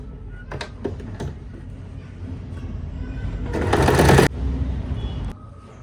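A sewing machine stitches an Afghani salwar belt in one short, loud run of stitching mid-clip, with faint handling clicks and rustles before and after.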